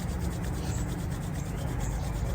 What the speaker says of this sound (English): we're gonna rub the hands together pretty generously